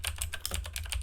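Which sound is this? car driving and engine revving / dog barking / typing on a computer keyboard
typing on a computer keyboard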